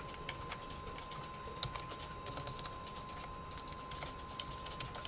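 Faint, steady computer keyboard typing, with soft rapid key clicks continuing throughout in a quiet room and no talking.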